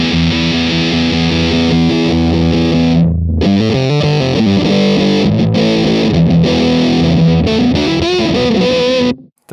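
Electric guitar played through a Fulltone Ultimate Octave fuzz pedal, loud saturated chords with a thick, buzzing, octave-doubled fuzz tone, a brief gap, then sustained riffing that cuts off at the end.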